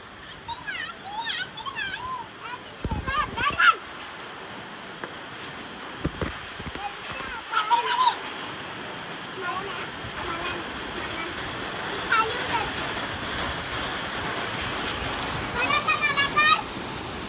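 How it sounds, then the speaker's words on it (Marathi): Steady heavy rain pours throughout, a dense broadband hiss with occasional thumps and splashes, while a voice talks over it intermittently. "खतरनाक पाऊस पडतोय"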